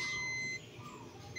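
A multimeter continuity test beeps while a cellphone charging flex cable is checked: a quiet, steady electronic tone that drops out briefly midway and then returns.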